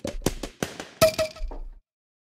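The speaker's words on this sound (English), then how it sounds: "I created a little drum kit using samples of like bottle popping and things like that." A homemade drum kit built from bottle-popping samples, a quick run of about eight sharp pops and clinks with short hollow tones, close and dry, ending in silence.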